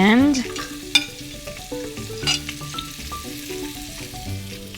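Almonds, raisins and dates stir-fried in a pan sizzle steadily, with a spoon scraping and tapping the metal now and then and a brief tonal squeal at the very start.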